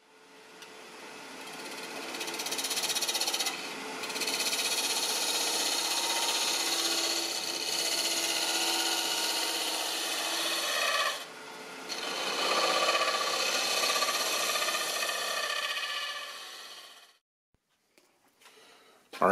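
Sanding a turned wooden lidded box on a lathe, a steady close abrasive hiss over the spinning workpiece with brief pauses, running for about seventeen seconds before cutting to near silence.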